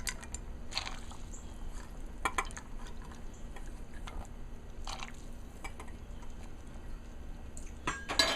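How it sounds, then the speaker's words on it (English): Half a cup of dry macaroni tipped into a pot of Multani soup, giving scattered clinks and soft rattles against the metal with a few sharp knocks, close and moderately quiet over a steady background hiss. "Now I'm gonna throw in half a cup of macaroni on this"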